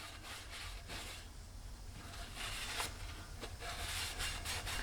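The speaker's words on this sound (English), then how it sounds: "I'm just gonna kind of scuff it up a bit in here because of the rust." Steady abrasive rubbing as a rusty metal bushing race on a Mitsubishi Montero/Pajero is scuffed, a continuous gritty scraping with periodic stroke-like surges, close and moderately loud without talk.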